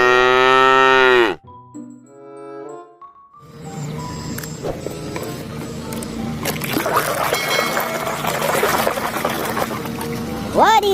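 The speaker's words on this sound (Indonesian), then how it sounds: "Nah, dan yang ini anak sapi." A toy animal plays a calf's moo: one loud, clear moo at the start. A few quieter electronic tones follow, then a steady stretch of clattering, splashing noise.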